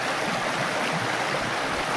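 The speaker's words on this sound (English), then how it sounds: "and here's Daryl Bloom filling up water by the creek side." A creek flows steadily nearby on the Teton Crest Trail, a constant rushing, bubbling wash of water with no pauses or voices.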